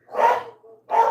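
Dogs barking at fire trucks, two loud close bursts of barking with a brief softer yelp between them.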